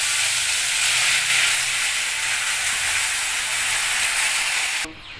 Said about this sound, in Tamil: இப்போ தக்காளி அதில் சேர்த்துக்கலாம்.